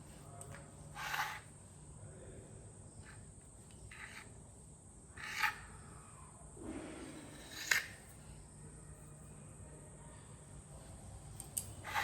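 A few sharp, separate snips trim the four edges of a fork-pricked flatbread dough for tomato chips, spaced several seconds apart over a faint steady background hum.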